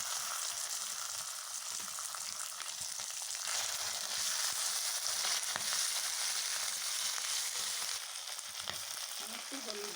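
Chicken liver frying in hot oil after potatoes were browned, for a Bengali mete kosha: a close, steady crackling sizzle that runs unbroken throughout.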